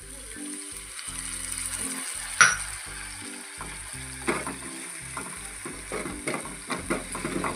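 Onions and vegetables sautéing in a pan with salt and tamarind juice for sabudana upma, a constant soft sizzle with a sharp clink and several scraping stirs of a spoon, close-up and without speech.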